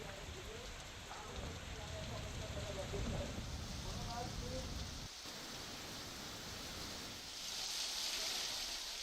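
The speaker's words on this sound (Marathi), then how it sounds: "मुंबई पुणे महामार्गावरील मिसिंग लिंक भागातही तुफान पाऊस सुरू आहे" Heavy monsoon rain pours on the Mumbai-Pune expressway near the missing link section, a dense, steady hiss of rainfall with a voice speaking over it.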